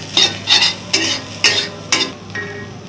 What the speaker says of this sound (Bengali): এটা এখন আমি আদা রসুনের সাথেই ভেজে নিচ্ছি।